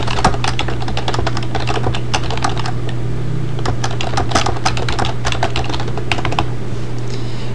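Keys tapped on a computer keyboard while a note is typed into a desktop sticky-notes window in Windows 7, a steady run of close, quick clicks with uneven rhythm over a constant low hum.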